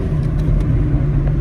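A Porsche 911 Carrera 4S with a naturally aspirated engine drones loud and close, a thick, steady low rumble held at sustained revs with no voices over it.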